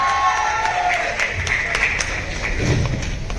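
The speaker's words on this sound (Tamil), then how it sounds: "Let's give it up for Lal." An audience applauds at a film trailer launch event with Mohanlal: a sustained wash of clapping and crowd murmur, moderately loud and steady throughout, with a few thuds.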